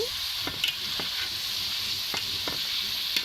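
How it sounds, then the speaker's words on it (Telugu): Amla (Indian gooseberries) frying in oil in a pan for a pickle, with a steady sizzle broken by several sharp scrapes and clicks of stirring, close by with no voices. "మంచిగా ఫ్రై అవుతాయి ఇదిగోండి ఇలాగా మధ్య మధ్యలో కలుపుతూ ఉండాలి"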